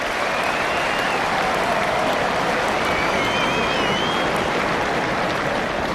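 Australian cricket fans at the 2013 first Ashes Test cheer and applaud a well-timed boundary, a loud, steady wash of clapping and crowd roar filling the whole stretch without a break.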